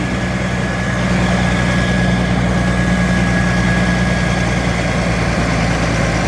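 A large rice combine harvester engine running steadily at idle, a loud, continuous low rumble with vibration and a faint whine, close by and without pause.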